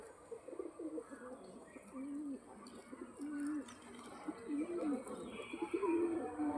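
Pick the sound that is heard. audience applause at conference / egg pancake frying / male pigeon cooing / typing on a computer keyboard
male pigeon cooing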